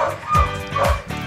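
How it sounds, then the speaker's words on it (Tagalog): Two quick, yappy dog barks a short distance away, with a brief whimpering tone between them. "medyo maingay yung aso dun sa labas"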